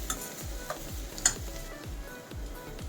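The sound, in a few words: ginger garlic paste frying with onions for veg pulao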